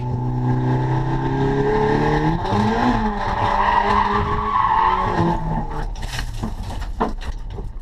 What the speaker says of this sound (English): here's where we had our first little crash